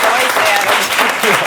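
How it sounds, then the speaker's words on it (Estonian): Studio audience clapping for the blue team during a comedy quiz show, a loud, dense burst of applause close by, sustained through the whole moment with a voice talking over it. "Aga veel teeme väikse aplausi sinisel tiimil ka"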